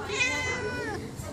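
A naughty house cat lets out one drawn-out, wavering meow up close, loud and continuous for over a second.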